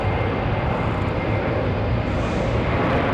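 An American airliner departs Raleigh Durham International airport on a rainy day, a loud, steady jet roar filling the whole stretch without a break.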